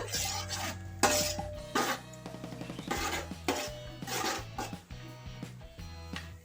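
Chopped dry fruits with charoli nuts are roasted in a pan, heard as close, intermittent scraping and rattling of a spoon against the metal with small clinks and rubbing strokes, uneven in rhythm and without voices.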